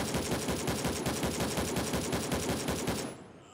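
Rapid machine-gun fire in the shooter Gray Zone Warfare, a loud, even stream of shots that runs steadily for about three seconds and then cuts off abruptly.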